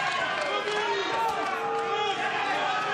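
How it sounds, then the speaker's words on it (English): A boxing arena crowd roars and chatters continuously through a bout between Lunga Sitemela and David Raijuli, a dense, steady wall of cheering voices with a commentator talking over it. "The crowd are really getting into it."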